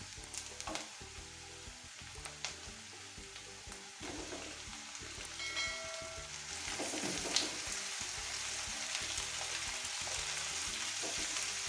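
Chicken fries in a pan with softened onions for a spicy Andhra-style chicken fry, giving a steady, close sizzle with occasional stirring scrapes that grow slightly louder and denser toward the end.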